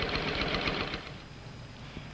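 A 1950s sewing machine stitches the center front seam of a skirt, running in a quick rhythmic whir for about a second before stopping and leaving a quiet room.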